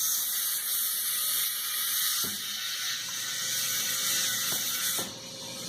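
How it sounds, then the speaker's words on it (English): An air tool hisses steadily at a tire valve stem as a tire is mounted, a loud continuous rush with a few brief clunks and shifts in pitch, and no voices. "Bring my valve stem over here to this side so I can get my air tool on there."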